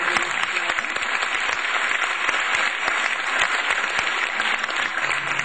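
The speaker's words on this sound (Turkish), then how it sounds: "Önce onlara bir alkış rica ediyorum." Audience applause at a Turkish classical music concert after a clarinet taksim, steady dense clapping from a large crowd filling the whole stretch at an even, fairly loud level.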